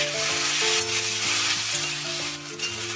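Ginger-garlic paste sizzles in a pan with softened onion and tomato while a spoon stirs and scrapes, and a steady hum runs underneath.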